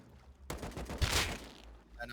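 Gunfire in a video game raid defence: a sudden burst of rapid shots starts partway in and rattles on for over a second, fairly near, with quiet background noise before and a brief sound after.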